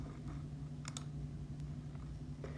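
Fingers tap an iPad's on-screen keyboard, giving a few soft, quick clicks spaced irregularly over a low steady hum, faint and close, with no talking.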